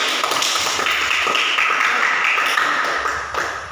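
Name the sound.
class applause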